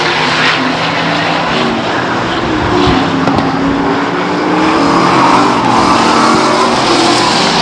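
Race cars roar loudly down the backstretch at Stockton 99 Speedway in 1999, several engines blending into a steady, continuous howl with pitch shifting as they pass.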